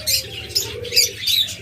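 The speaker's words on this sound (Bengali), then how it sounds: "এরপর এখানে আরেকটা চমৎকার ককাটেল জোড়া রয়েছে" Pair of cockatiels chirping in four quick bright bursts, close and loud, over a low background hum.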